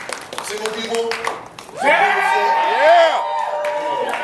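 Comedy club audience breaking into whoops and scattered clapping after a brief spoken lead-in, the cheering swelling loud for a couple of seconds with voices calling out.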